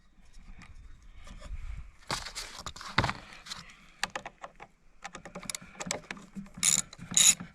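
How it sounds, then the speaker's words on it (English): A 10mm wrench loosening the negative cable on a Yamaha generator battery, with sparse metallic ratcheting clicks and small clanks up close, quiet between bursts. "Take off the negative cable."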